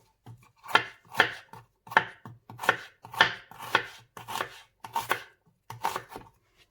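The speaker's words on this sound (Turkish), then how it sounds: "Öncelikle soğanımı ikiye bölüyorum. Bu şekil hemen kıyıyorum." Onion halved and chopped with a knife on a board, about a dozen crisp, evenly spaced chops in a steady rhythm, close and clear with no talk.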